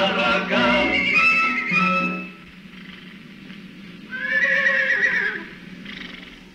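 A horse in a 1947 animated film lets out a loud, drawn-out whinny, then after a brief lull a second, higher neigh rises and fades.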